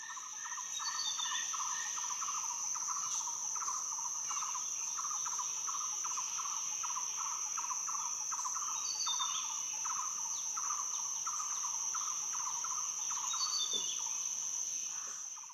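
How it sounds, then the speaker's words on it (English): Jungle rainforest ambience with a constant high insect drone, layered with repeated chirping bird calls, steady and even in level throughout, no voices. "I've got this jungle, rainforest, nature, background track."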